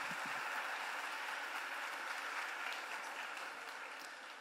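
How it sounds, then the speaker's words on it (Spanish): A live audience at a magic show applauds, a steady wash of clapping that fades slightly toward the end, with no talking over it. "Fuerte el aplauso para Agus."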